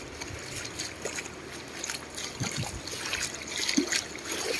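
River water flows and trickles nearby on a riverside fishing outing, a continuous soft gurgling wash with small splashes and no talking.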